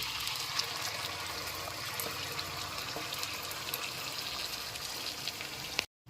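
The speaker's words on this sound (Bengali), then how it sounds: "জলটা আমি ফুটিয়ে নিয়েছি এক কাপ দিয়ে দিলাম" Boiled water poured into a pot of rice for white pulao, a steady continuous gush of liquid lasting several seconds at moderate level, then an abrupt stop.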